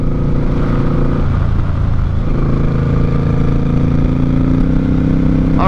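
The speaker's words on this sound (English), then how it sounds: "Motorbikes, sir." Motorbikes pass on a curvy Ohio road, a steady loud engine drone with shifting pitch as they go by, close and continuous with no voices.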